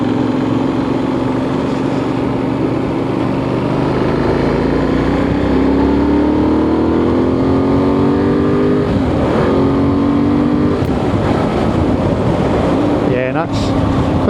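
A Benelli 800 Trail motorcycle rolls on in third gear toward the speed limit, its engine drone rising steadily in pitch under loud wind rush, heard close from the rider's position.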